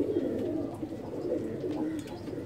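Low cooing of a male Teddy cross pigeon kept as a breeding pair, soft throaty murmurs running steadily under faint background noise.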